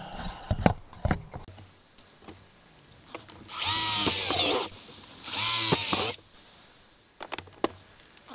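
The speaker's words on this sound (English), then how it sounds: "let's drill some more holes" A power drill bores holes for a kayak electronics mount: two loud, whining bursts of drilling, each lasting about a second, framed by clicks and handling knocks close by.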